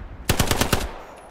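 A short machine gun burst of about six rapid shots rings out in the World War II shooter game Hell Let Loose, sharp and close, then trails off.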